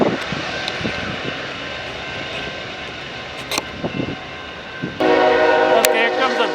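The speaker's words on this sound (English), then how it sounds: "here comes a BNSF manifest" A BNSF manifest freight train approaches with a low rumble and scattered clanks, then a loud sustained horn blast near the end, and a voice speaks briefly.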